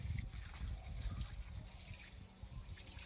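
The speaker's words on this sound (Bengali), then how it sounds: "অনেক সুন্দর জল বেরোচ্ছে" Water flowing steadily from a tap, a faint continuous trickle and splash heard close by without pauses.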